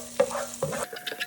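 Garlic and chili flakes frying in a pan, a steady close sizzle broken by a few louder stirring scrapes, with no talk.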